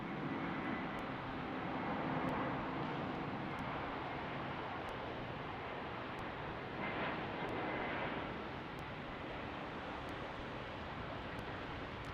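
An Airbus A321 airliner from Orlando moves on the ground at Salt Lake City airport at night, a steady broadband engine roar heard at a distance with wind noise and faint regular ticks.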